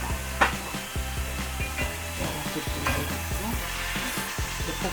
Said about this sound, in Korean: 그리고 다시 저어주세요.